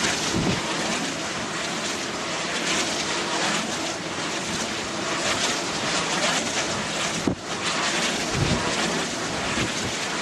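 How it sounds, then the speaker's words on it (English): Strong wind on the coast near Albany at King George Sound roars steadily across the microphone, broad and buffeting, with surf-like rushing beneath it and no voices. "it's quite windy today."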